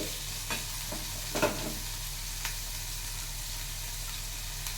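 Onions and large potatoes fry quietly in a pan: a faint, even sizzle with a few soft stirring knocks early on, over a low steady hum, with no voices.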